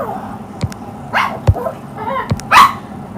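Several sharp, close dog barks and yips come at irregular intervals, with the loudest near the end, over a low background hum.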